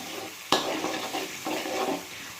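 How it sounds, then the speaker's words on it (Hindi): Spices fry in hot oil in a pan at home, a steady close sizzle with a sharp clink of a utensil and soft stirring scrapes through it, no talking. "इन्हें बहुत अच्छे से पकाएंगे जब तक कि मसाला अच्छे से तेल नहीं छोड़ देगा।"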